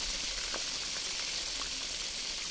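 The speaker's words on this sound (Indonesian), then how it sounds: "langsung aja ini kita akan goreng dulu ikan salemnya" Large salem (pindang) fish fries in hot oil with a steady, soft, hissing sizzle throughout and no talking.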